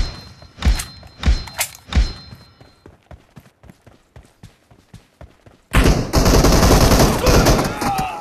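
Gunfire in the video game PUBG: several sharp, widely spaced shots, then a run of quicker softer pops, ending in a sustained loud burst of noisy fire.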